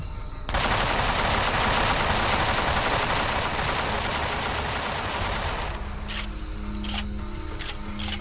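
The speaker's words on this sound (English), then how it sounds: "the cannon will take care of those fairly quickly" Sustained heavy rapid-fire cannon shooting in the video game Empyrion, a dense loud roar lasting several seconds before cutting off, then quieter game sounds and tones.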